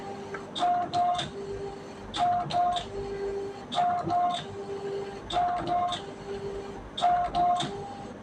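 A cable-free printer prints a page in repeated cycles, each burst of mechanical whirring and clicking feed noise followed by short pauses, close and moderately loud, with no talk.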